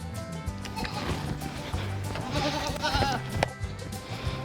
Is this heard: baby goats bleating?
yes